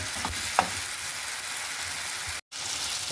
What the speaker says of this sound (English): just leave it for a few more minutes to keep on frying